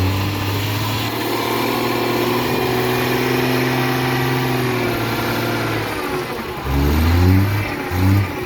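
A heavy old Hino diesel truck engine, likely an EM100, rumbles and revs, holding a steady low drone before surging in a couple of louder bursts near the end.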